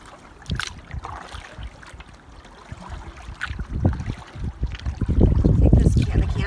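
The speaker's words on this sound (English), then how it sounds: "and I hear a speedboat" A speedboat passing on the Lady Evelyn River in Temagami, its motor drone building from a faint distant hum to a louder, closer rumble over lapping water, with wind noise throughout.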